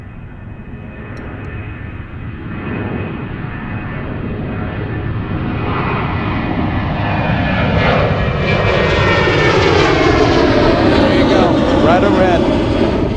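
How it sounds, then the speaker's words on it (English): An Airbus A321neo jet at Zurich airport: a loud, continuous engine roar that swells steadily and sweeps upward as the aircraft passes close by. "Looks like we have an A321neo."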